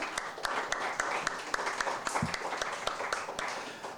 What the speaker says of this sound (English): let's give JC's dad another round of applause for Charlie